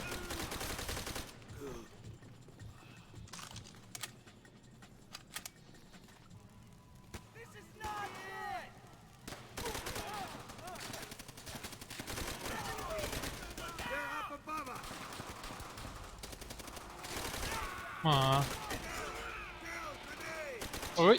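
Rapid bursts of gunfire and explosions from the video game Call of Duty: World at War crackle throughout, including a shot fuel tank, with a voice talking excitedly in Thai over the action.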